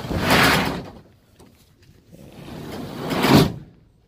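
A Retrax ONE XR retractable truck bed cover with a matte finish rolls shut along its rails and clamps down, giving two broad sliding, thudding bursts separated by a quiet pause, close and fairly loud.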